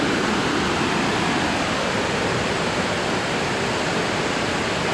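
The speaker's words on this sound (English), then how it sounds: "Yep, Sirithon Waterfall." Sirithon Waterfall in Doi Inthanon National Park, Thailand, roars in a dense, steady rush of falling water that stays constant throughout, with no voices.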